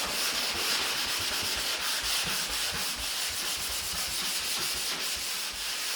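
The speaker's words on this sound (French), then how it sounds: "on passe au ponçage à la main" Hand sanding of a plastered wall, a steady, dense scratchy rubbing that continues without a break, close and fairly loud, with no voices.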